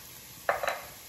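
Rice, garlic, salt and pepper stirred around in a pot for chicken bog, a short scrape and rustle of grains against metal lasting about half a second, close and quiet, with no talk.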